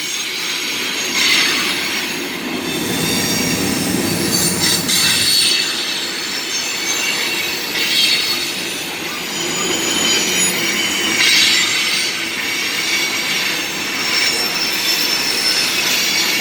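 CSX freight train Q415 rolls slowly past the Point of Rocks station, its wheels keeping up a loud, continuous high-pitched squeal over steady rumbling and faint clacking of railcars, with no voices.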